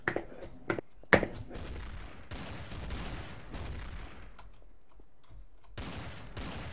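Gunfire in the video game Trouble in Terrorist Town, with a few sharp shots up front, then a rattling volley that tails off into quieter scattered bursts, with another burst of fire near the end.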